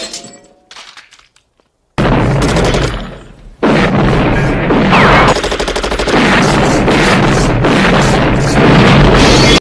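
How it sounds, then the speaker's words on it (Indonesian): Gunfire in a film shootout scene, with a loud, dense run of booming shots, thuds and crashes that fills most of the clip after a quiet opening, with no talk. "Terjadi baku tembak kecil-kecilan dan Arius sangat mudah sekali untuk dikalahkan."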